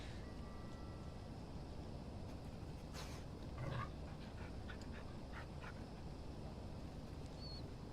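Quiet whimpering and soft panting from a dog in the video game Oxenfree II, a few brief whines over a steady low ambient hiss.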